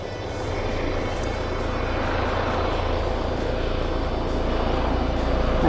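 Helicopters landing near a cottage in a mountain valley, a broad steady rotor and engine roar that gradually swells louder as the craft draws nearer.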